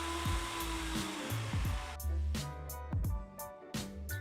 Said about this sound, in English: After that, we'll be grinding all the nuts and the spices into a fine powder.